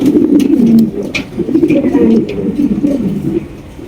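Big king pigeons at a pigeon farm coo loudly and close, several overlapping throaty, rolling calls repeating continuously, with faint human voices in the background.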